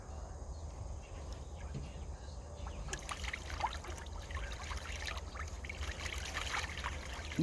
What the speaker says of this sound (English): You do like bathing in the water.